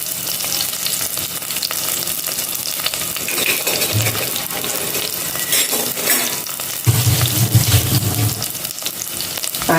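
Sliced onions and curry leaves fry in hot oil in a pan, a loud, steady crackling sizzle up close, with a few low clatters and a burst of heavier bubbling toward the end.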